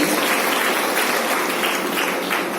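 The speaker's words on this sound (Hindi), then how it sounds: "रामशीष सर जी के लिए जोरदार ताली होनी चाहिए" Loud, continuous clapping from a crowd at a DXN meeting, close and dense, holding steady for the whole stretch without speech.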